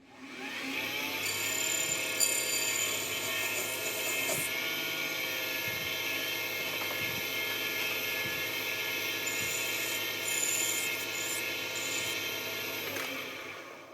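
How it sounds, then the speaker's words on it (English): A PM 728V-T lathe parts off small pieces from knurled metal stock, a steady loud motor whine with a sustained high cutting tone and faint rhythmic ticks, running continuously with no talking. "So I'm just going to part a couple of pieces off of that, and I'll have them."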